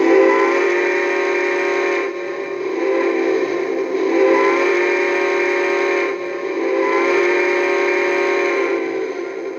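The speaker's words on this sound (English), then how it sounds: "But, oh, Frank, Twisted MacGyver, here's your whistle." A steam-style whistle sounds from a model locomotive fitted with a sound system, loud and close, a continuous harmonic blast that briefly dips twice before swelling again, with nothing else heard.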